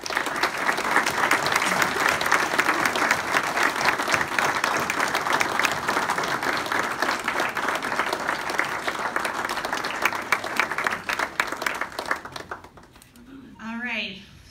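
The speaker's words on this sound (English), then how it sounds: "Please give them a round of applause." Sustained audience applause at a United Way campaign kickoff, dense steady clapping for about twelve seconds that tapers off, followed by a brief voice.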